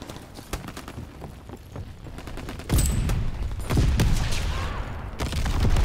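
Booming artillery cannon blasts and crackling gunfire from Call of Duty WWII, loud and continuous with repeated heavy thuds and no talking.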